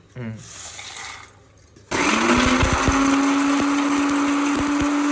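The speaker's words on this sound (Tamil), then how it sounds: "மசாலா அதை எடுத்து மிக்ஸில் பவுட்ரு பண்ணிக்கணும்" A mixer grinder powdering roasted spices roars loudly and steadily for several seconds, its motor whine constant, after a short stretch of quieter background noise.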